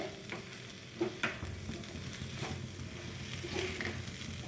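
Semolina and sugar being stirred together in a pan for sweet pulao, a spoon scraping in steady strokes over a low dry sizzle with a couple of sharper knocks, no voices.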